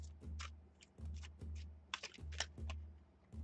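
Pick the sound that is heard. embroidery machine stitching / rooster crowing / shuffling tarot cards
shuffling tarot cards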